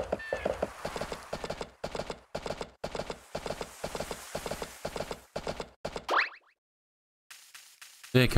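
Hoofbeats of a horse in the farming video game A Wonderful Life, a rapid run of clip-clop steps followed by a short whinny, then a pause and a loud final thud.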